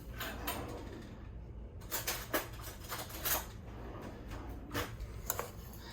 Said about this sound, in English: so now we're gonna mix this all together